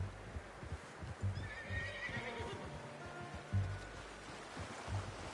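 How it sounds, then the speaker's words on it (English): A horse in the Red Dead video game neighs and whinnies over clip-clopping hooves, with a soft wash of ambient game sound underneath and no talking. "How's that new horse?"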